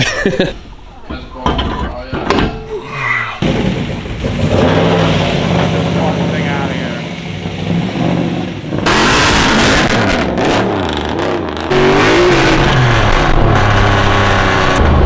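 An LS2 V8-swapped BMW E46 accelerates at partial throttle, its engine note rising in pitch and loudness in strong, close surges, with voices mixed in around it.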